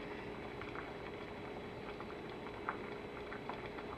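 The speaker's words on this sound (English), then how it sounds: "I'm cooking rice." Rice bubbling as it boils inside a can set on a tea can stove, a steady, close simmering patter with small pops, heard alone without voices.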